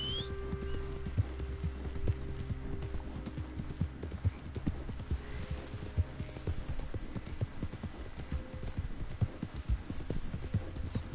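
Steady horse hooves clip-clopping at a walking pace in the video game Red Dead Redemption 2, soft and even, with a low hum underneath and no voices.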